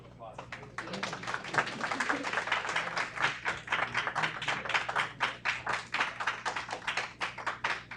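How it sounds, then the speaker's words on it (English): Applause from an audience at a city council meeting in Aurora, many hands clapping in a dense, steady patter that builds and carries on for several seconds, with some talking mixed in. "Let's give him another round of applause."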